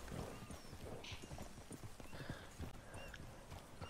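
Horse hooves clip-clop steadily in a video game, a quick running rhythm of hoofbeats with a brief whinny mixed in, moderately close and continuous throughout.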